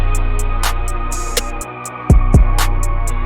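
Shortened Lex closed hi-hat in a trap beat: clipped, tight ticks over a dense loud mix of sustained synth pads, a snare-like hit and deep sliding 808 bass notes.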